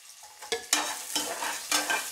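Small shallots frying in a pan for spicy ragi puttu, with three or four distinct stirring scrapes set into a bright, close sizzle that rises and falls, and no speech.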